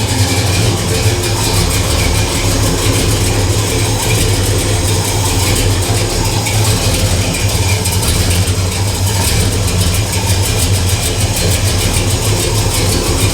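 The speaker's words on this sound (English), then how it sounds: "There's no choke on this car, so sometimes it's a challenge getting it started when it's cold." A car with no choke runs loudly after a cold start, its engine holding a steady, rough drone close to the microphone for the whole stretch, with no voices over it.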